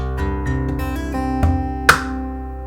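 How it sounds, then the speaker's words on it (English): An acoustic guitar played percussively, with thumb slaps for a bass kick and finger hits for a snare mixed into ringing fingerpicked notes, ending in a sharp slap, close and with no talking. "we're going to create a bass kick with our thumb"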